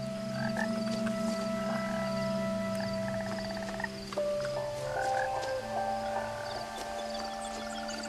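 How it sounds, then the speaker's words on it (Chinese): Frogs croak in the video game What Remains of Edith Finch, a steady overlapping chorus of rhythmic calls layered over sustained game music tones, loud and continuous throughout. "有青蛙的声音。"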